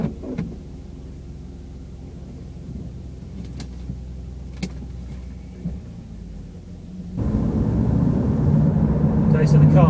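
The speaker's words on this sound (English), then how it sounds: "we'll give the car a run down the road and see how it sounds" A cold Jaguar X-Type heard from the cabin over the rear differential: a low idle rumble with a few clicks, then the engine and road noise swell sharply as the car pulls away and gathers speed on a 4-degree morning.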